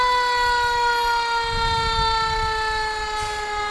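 A Schaumburg fire truck's siren sounds at a July 4th parade: a loud, sustained wail of steady stacked tones with a slight downward glide, with rumble and crowd noise beneath.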